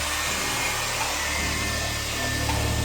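A Chemical Guys scratch and swirl remover is worked into car paint by a polisher spinning at about 2,500 RPM, giving a close, steady, loud whir that runs unbroken throughout.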